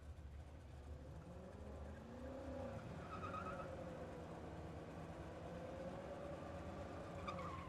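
A Buick Opel drag race car at a drag strip, its engine note and tire squeal rising and falling in a loud, continuous roar, with crowd noise and faint voices around it.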